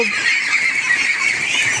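A dense flock of Pekin ducks on a duck farm quacks and chatters continuously, many birds calling at once, close and loud.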